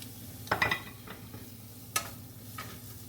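Garlic goes into a hot pan for ranchero tacos, a near clatter and stir at first followed by soft sizzling and a few light utensil scrapes, with no talking.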